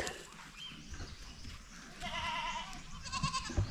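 A goat named George bleats on a pig farm, a wavering cry or two rising midway over steady rustling farmyard background noise, moderately close.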